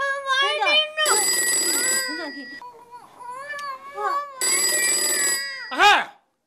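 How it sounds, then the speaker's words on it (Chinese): A telephone bell rings in two long bursts, loud and close, between stretches of crying and a voice, with speech around it. "接电话"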